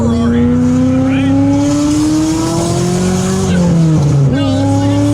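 An LS3 V8 fitted with a supercar-style exhaust revs hard, its loud high-pitched wail climbing steadily, dipping briefly, then rising again, with voices heard faintly underneath.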